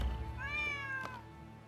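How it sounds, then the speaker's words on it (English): A stray cat in the video game Rise of the Ronin gives a single drawn-out meow, clear and close, over a low steady background hum. "Who'd have thought a stray cat would wander in?"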